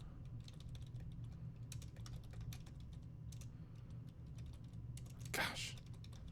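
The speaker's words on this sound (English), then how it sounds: "I'm really sick of typing this." Computer keyboard typing during a cybersecurity walkthrough session: a run of light, irregular key clicks at moderate level over a steady low hum, with one louder burst near the end.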